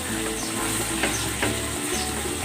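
Pieces of sliced pork belly (liempo) sizzle steadily in a pan with coconut milk, a dense, continuous crackle close by, with a couple of faint stirring scrapes and no talk.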